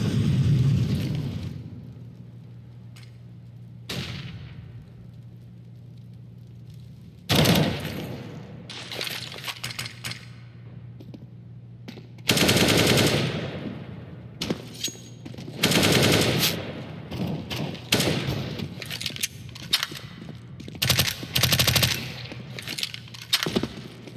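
Rapid bursts of MP5 submachine gun fire in a Counter-Strike: Global Offensive match on the Mirage map, loud repeated volleys and clusters of shots separated by short quieter gaps of background game ambience.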